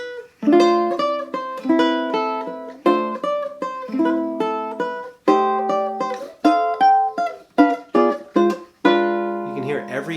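Guitar notes plucked with smoothly buffed fingernails ring out cleanly one after another in a slow fingerpicked pattern, each note decaying before the next, close and clear with no talk.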